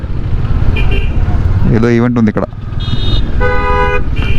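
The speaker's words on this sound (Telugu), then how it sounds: "ఇక్కడ కూడా ట్రాఫిక్ జామ్ ఉంది ఫుల్గా." Cars honking in a traffic jam in Sonmarg, Kashmir: loud, close horn blasts repeating over idling engines while someone talks.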